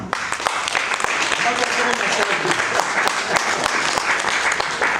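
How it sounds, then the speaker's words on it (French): A room of listeners at a talk on happiness at work applauds steadily for about five seconds, dense clapping filling the space with some voices mixed in underneath. "Est-ce qu'on peut applaudir Clément?"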